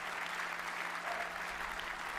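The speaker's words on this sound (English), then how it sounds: "Okay, clap. Please clap." Audience applause at an AMD keynote at CES 2019, a continuous, fairly distant roar of a large crowd clapping in a big hall, steady and unbroken for the whole stretch with a low hum underneath.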